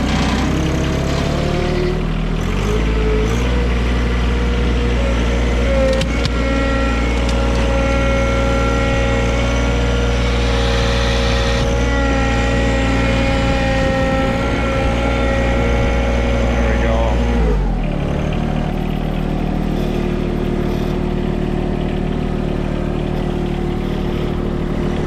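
A rare mini truck engine, a D50, driving in four-wheel drive, holding a steady droning mid-pitched note close by that shifts downward after a gear change, with people talking over it.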